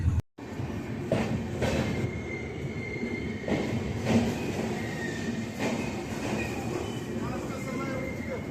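A moving passenger train heads toward Bolpur Shantiniketan, heard from on board as a loud, continuous rumble and rattle with regular wheel clacks over the rail joints.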